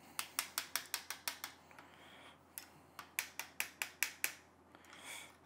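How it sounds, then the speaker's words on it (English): A screw holding the cam axle on a compound bow is backed out with a tool, giving two quick runs of sharp ratcheting clicks, about seven each, close and quiet with a short pause between them. "now I'm just gonna take the screw off that holds the axle"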